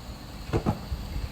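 Lid set onto a cooking pan while making a mussel dish, two quick close metallic knocks in succession followed by a couple of softer taps.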